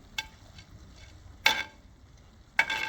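Boneless chicken biryani masala stirred in a pan, a quiet sizzle underneath three sharp scraping strokes of the spoon spaced about a second apart, with no one talking.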